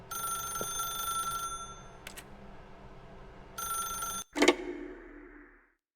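Telephone ringing in the video game The Stanley Parable, two bursts of an electronic bell ring separated by a gap over a low room hum, followed by a louder clunk as it fades out.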